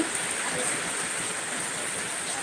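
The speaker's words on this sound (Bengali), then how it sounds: "এই দেখুন আমাদের এখানে কি বৃষ্টি বৃষ্টি হচ্ছে দেখুন দেখতেই পাচ্ছেন বৃষ্টি" Rain falls in Tripura in a dense, even wash of hiss that continues unbroken from start to finish, steady and fairly close, with no voices heard.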